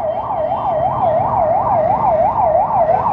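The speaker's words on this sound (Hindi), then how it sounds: "एक सेकंड एम्बुलेंस निकल जाए" An ambulance on a city road in the Karol Bagh area of Delhi passes close by with its siren on. It gives a loud, fast wail that repeats about eight times over a motor hum.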